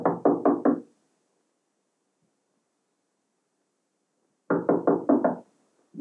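A door is knocked on in a black-and-white 1982 film scene: a crisp burst of about four quick raps, a long silent pause, then another burst of four raps.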